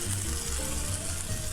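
Steady crackling sizzle of chicken skin frying in a hot pan over medium heat, pressed under a weight, continuous and close, with faint low clinks beneath.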